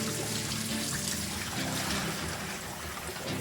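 Used ham brine poured away, a steady splashing trickle of liquid running continuously at close range.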